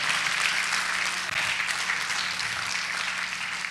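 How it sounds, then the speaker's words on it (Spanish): A church congregation applauds loudly and steadily for several seconds, a dense wash of clapping hands filling the room with no voices above it. "usted le da palmas fuerte al Señor"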